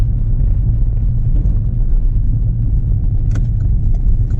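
A 2013 Renault Megane 1.5 diesel drives in third gear, giving a loud, steady low engine rumble with road noise from inside the car and a brief knock near the end.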